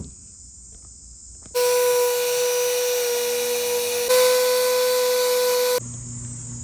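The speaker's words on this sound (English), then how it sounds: "let's sand these and get them painted" A power sander works over rough, worn table legs during a restoration, a loud steady whine with a strong tonal hum running for several seconds and then cutting off, with no talk.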